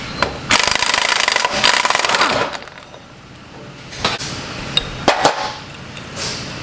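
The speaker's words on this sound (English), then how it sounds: "we're going to go ahead and get the pinion off this right now, the pinion nut," Work on a GM Duramax truck front differential, removing the pinion nut and pulling the yoke: bursts of loud buzzing impact-tool rattle, then sharp metallic clanks and scraping of parts, with no talking.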